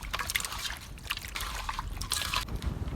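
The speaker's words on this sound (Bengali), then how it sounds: "এখন ধুইতেছি।" Raw pieces of a large carp are washed by hand in water, with irregular splashing, trickling and sloshing close by throughout, and no voices.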